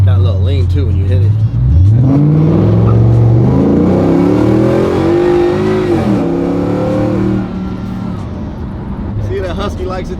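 A Coyote V8 swapped into a Lincoln Continental revs hard and deep, rising in pitch as it accelerates, then settles into a steady loud drone close by.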